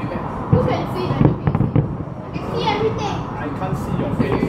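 Fireworks set off near a new house, a series of close sharp pops and crackling bursts over a few seconds, while children and adults talk and call out throughout.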